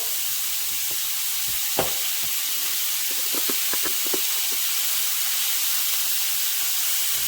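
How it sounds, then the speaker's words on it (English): Onions browning in a pan for onion gravy give a faint, steady sizzle and hiss, broken by a few soft stirring scrapes and clicks, with no one talking. "we're gonna brown up the onion"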